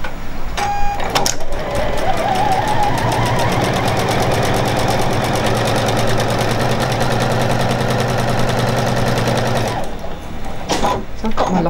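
A Juki HZL-NX7 sewing machine sewing a straight stitch: a steady, rapid mechanical whir that runs for about eight seconds, with short stops at the start and end.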